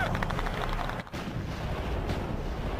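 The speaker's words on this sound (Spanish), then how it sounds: "recibía disparos y cañonazos." Dense, continuous rattle of wartime gunfire and artillery from a North African desert tank battle, loud and sustained with booming low thuds throughout and a brief dip near the middle.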